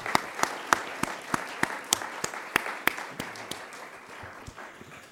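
An audience at a talk on the economics of Catalan independence gives scattered applause. It sounds as sparse, distinct claps that slowly thin out and fade.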